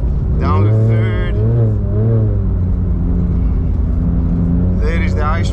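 A Porsche GT3 engine on an ice driving track revs up after a downshift to third, a loud, steady, close drone whose pitch swells and dips, with a rising rasp near the end.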